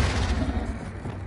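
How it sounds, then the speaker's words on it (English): The Confringo blasting spell from Hogwarts Legacy goes off as a loud, dense rumbling burst that swells and then slowly thins out, heard alone without talk. "Confringo"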